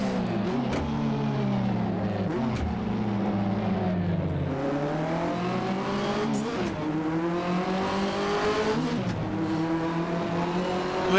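Turbocharged touring car engine in the Assetto Corsa racing game, from a 1985–1992 Australian Touring Car Championship mod, revving and shifting loudly through gears with a whining turbo and rising, falling engine tones throughout, no talk over it.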